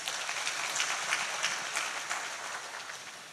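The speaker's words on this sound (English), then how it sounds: "another round of applause." An audience at a defence exhibition and conference in Ghana claps steadily, a dense, even wash of applause held at moderate level throughout, without voices.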